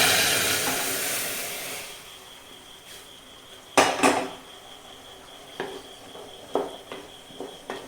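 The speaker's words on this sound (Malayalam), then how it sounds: "ഇനി നമ്മൾ ഇതിൻ്റെ അകത്തോട്ട് കുറച്ച് തിളച്ചുകൊണ്ടിരിക്കുന്ന വെള്ളം" Boiling water poured into a pan of tempered mustard seeds and urad dal sets off a loud hissing rush that fades over two seconds, followed by sparse clinks and knocks of utensils against the pan.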